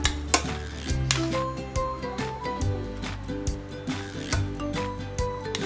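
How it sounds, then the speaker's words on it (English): Butter melting in a pan while being stirred by a child, with repeated close scraping and tapping of a utensil against the pan over a soft sizzle, no talking. "Emma, you're melting the butter in there?"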